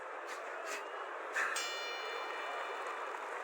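A bell rings out at the end of the final round in the boxing video game Fight Night, bright metallic strikes with a lingering ring, heard over a steady crowd-like background hiss.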